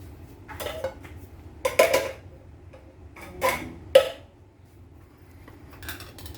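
Utensils clinking against a bowl while Filipino fruit salad with fruit cocktail is mixed, a few sharp close taps scattered among quiet stretches, with no voices.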